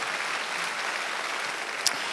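A church congregation applauds during a Sunday worship service, a steady, even wash of many hands clapping at moderate level, with one brief sharper accent near the end.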